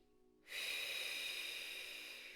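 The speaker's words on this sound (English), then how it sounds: "take a deep breath in" A single deep inhalation during a guided relaxation, heard as a sudden, steady, airy rush of breath that begins after a short quiet pause and holds close and clear for about two seconds.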